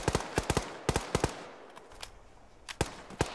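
Gunfire from a weapon in the Arma 3 combat game rings out in quick bursts of two or three sharp shots, pauses, then resumes with a few isolated cracks, loud and close.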